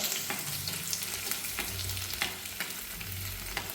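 Ten garlic cloves frying over a low flame in a pan for dried mango pickle, a steady oily sizzle broken by regular scrapes of a stirring spoon, close and fairly loud with no talking.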